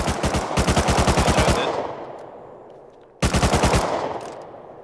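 Automatic gunfire in the video game Rust: a rapid burst of loud shots for about a second and a half, a fading echo tail, then a second short burst, with no talking.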